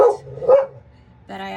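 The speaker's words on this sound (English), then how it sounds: "I apologize that my dog is still barking." A dog indoors gives two short barks close by, followed by a brief tonal sound at the end.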